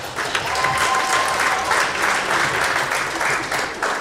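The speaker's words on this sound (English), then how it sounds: "Let's give one more round of applause." A school audience at a Black History program in Flint, Michigan breaks into a steady round of applause, dense clapping filling the hall from start to finish with no speech over it.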